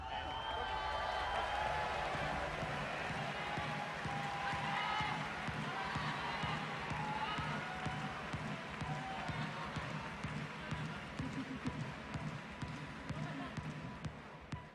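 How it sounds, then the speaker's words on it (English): Loud, continuous crowd cheering and applause fill a packed arena at the 2023 Pokémon World Championships finals in Yokohama, Japan, sustained at an even level throughout with voices woven into the din. "it sounds like there are some people cheering very loudly for you here at home"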